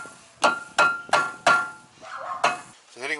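Hammer blows against a stuck brake caliper on a Toyota Corolla AE92, five sharp metallic strikes landing at an uneven pace with short ringing decay, followed by a brief squeaky scrape close by.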